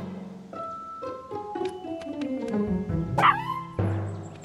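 Several dogs bark and yip in quick, overlapping bursts, close by, with one sharp high yelp standing out near the end.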